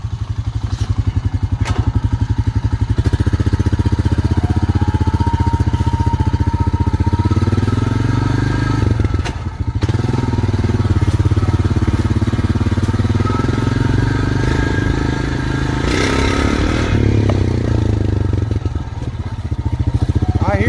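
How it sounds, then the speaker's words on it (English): A motorcycle, just fitted with a cleaned, formerly rusted gas tank, rides around a yard. Its engine runs loud and close throughout, a continuous rumble with rising and falling revs and some rattling clatter. "Just gonna ride around the yard for a little while."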